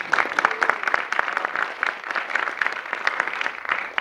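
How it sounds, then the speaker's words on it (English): Improv comedy showcase audience applauding steadily, dense close clapping from a small crowd for the performers, holding evenly throughout without talk. "give them one more round of applause"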